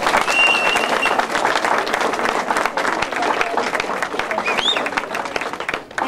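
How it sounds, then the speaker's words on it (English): Dense audience applause fills a reunion speech gathering, loud and sustained throughout, tapering slightly at the very end. "please, a round of applause for each of these tremendous"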